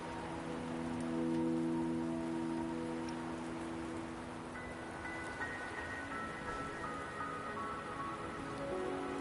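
Steady rain falls in the video game Wuthering Waves, a dense, even patter that holds throughout under sustained musical tones, with no voices.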